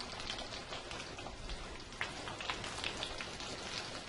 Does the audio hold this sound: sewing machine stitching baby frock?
no